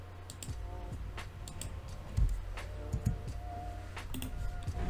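Computer keyboard keys tapped in quick irregular bursts with occasional sharp mouse clicks, close and fairly quiet over a low steady hum, while someone works on a Roblox animation.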